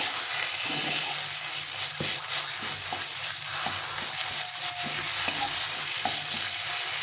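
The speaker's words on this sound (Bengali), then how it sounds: "এটাকে ভালো করে কষিয়ে নিই সুন্দর লাল লাল করে ভেজে নিতে হবে" Taro mash stir-fried in a pan until reddish, with a continuous close sizzle and regular scraping stirs of a spatula throughout, and no talking.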